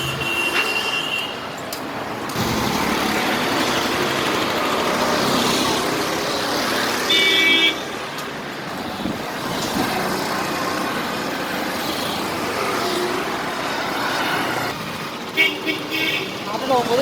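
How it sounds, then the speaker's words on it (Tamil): Steady traffic along a busy main road, a continuous rumble of passing vehicles with a brief horn-like tone, heard close up while people talk over it. "இது மெயின் ரோட், பேருக்குடா மெயின் ரோட்."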